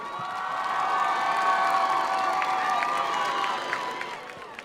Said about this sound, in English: Let's give a round of applause for Kaylee Tyler.